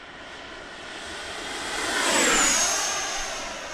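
An FMS F-86 model jet flies by at roughly three-quarter throttle, its turbine-like whine swelling as it passes fairly close and then easing off again, with no talk over it.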